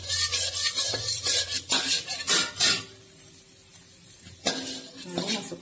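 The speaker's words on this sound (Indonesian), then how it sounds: "Minyak sudah panas, saya masukkan saus barbecue" Barbecue sauce hits hot oil in a pan with a burst of sizzling and clattering stirring, loud and close, then settling to a softer hiss before another scrape near the end.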